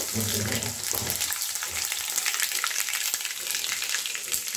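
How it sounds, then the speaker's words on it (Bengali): Chopped ginger with dried red chillies sizzles in hot tempering oil, a bright continuous crackle with occasional soft spoon scrapes as it is gently stirred, close and steady. "এখানে আছে অল্প আদার কুচি, হালকা করে নেড়ে নেব।"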